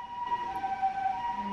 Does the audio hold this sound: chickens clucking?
no